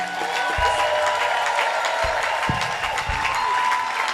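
Congregation at a revival gathering with a prophet claps and cheers for Jesus, a lively wash of applause and shouts with a few thumps and rising cries scattered through it.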